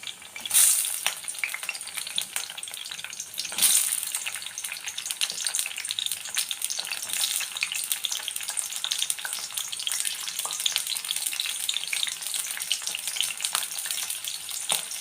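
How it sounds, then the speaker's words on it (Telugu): Green chillies, curry leaves and onion frying in oil for a keema curry, a loud continuous crackling sizzle with two sharper bursts early on, close up and without speech. "ఇప్పుడు కొంచెం కూరకు సరిపడా నూనె వేసేసుకుని ఇప్పుడు అందులో వచ్చేసి పచ్చిమిర్చి కరివేపాకు ఉల్లిపాయ వేసేసుకుందాం"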